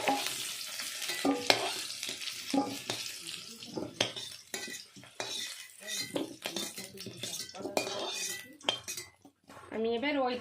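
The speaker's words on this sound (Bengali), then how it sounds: "আলুগুলো ভেজে নিয়েছি তুলে নেবো" Fried potatoes lifted from a pan of oil for a Bengali cauliflower and fish curry, with scraping utensil clatter and faint frying noise over a steady background, and people talking through much of it.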